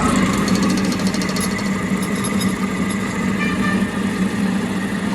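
Loud, steady mechanical chugging of an air compressor with worn piston rings running nearby, a dense engine-like rattle with a low hum, continuous and without voices.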